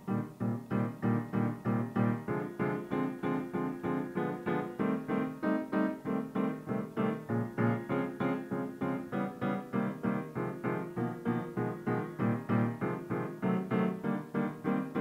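Jazz piano comping in a steady four-beats-to-the-bar pulse, with the harmony shifting partway through bars; solo instrument, moderately quiet, close.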